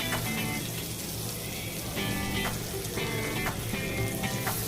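Butter melting in a hot pan sizzles steadily and close, a bright crackling hiss with a few brief louder spurts, no voices.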